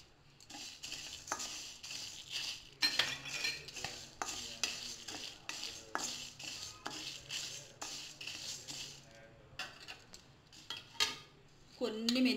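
Rasam powder spices, including black peppercorns and fenugreek seeds, are stirred as they dry-roast in a pan, producing repeated close scraping and rattling strokes of a spoon against metal, fairly quiet, with short pauses.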